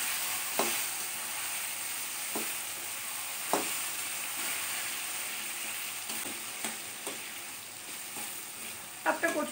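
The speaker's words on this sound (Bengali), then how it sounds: "এবার আমি কচু শাকটা দিয়ে দিচ্ছি" Taro leaves hit hot spiced oil for a hilsa fish head dish, giving a soft steady sizzle broken by a few sharp clatters of stirring, close and fairly quiet.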